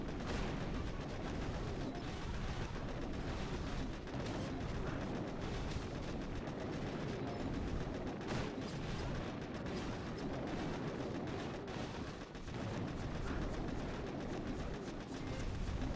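Cannons firing in the video game Scorched Crab, a dense, continuous barrage of booming blasts that blur together at steady loudness throughout.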